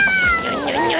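Kitten meowing close by in a single drawn-out, wavering call lasting about a second.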